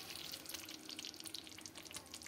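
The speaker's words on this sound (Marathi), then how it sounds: "तर आपण आता हेच पाणी यामध्ये घालून घेणार आहोत" Hot water is poured into a curry cooking in a pan, giving a faint, steady splashing and sizzling hiss that lasts throughout.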